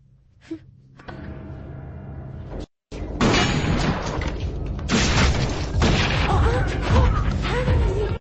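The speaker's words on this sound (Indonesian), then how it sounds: "James secara spontan menembakkan senjata apinya dan inilah yang terjadi" Loud bursts of gunfire and heavy impacts in a film scene follow a quieter opening, with a brief silence before a sustained barrage of shots and crashes.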